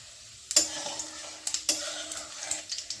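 Cumin seeds drop into hot oil for tempering and crackle at once into a steady close sizzle, punctuated by sharp pops and a few spoon-against-pan clicks.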